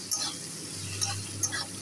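Bottle gourd curry (lau) simmering and being stirred in a pan, with soft sizzling and a few light scrapes of the spoon against the pan.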